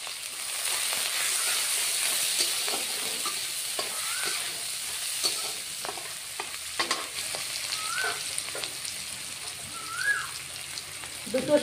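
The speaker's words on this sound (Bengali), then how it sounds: "পেঁয়াজটা দিয়ে দিব ফোড়ন। পেঁয়াজ ফোড়ন দিয়ে দিলাম বন্ধুরা।" Onion dropped into hot oil as a tempering, a steady close sizzle with repeated scraping stirs and occasional sharp pops, a few faint higher squeaks between.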